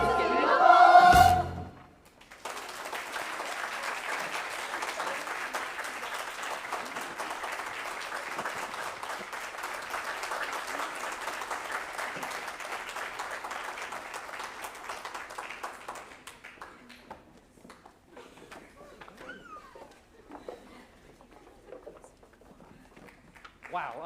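A school board meeting audience applauds a students' stage performance with steady, moderate clapping that holds for about fifteen seconds before tapering to scattered claps and quiet, after a brief spoken line at the start.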